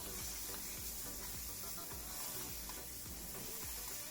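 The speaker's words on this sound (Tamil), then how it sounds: "இப்போ இதையும் நல்லா வதக்கிக்கலாம்." Pirandai (adamant creeper) sautéing and being stirred in oil in a pan for thokku, a steady loud sizzle with repeated scraping strokes of the spoon against the pan roughly every half second, no voices.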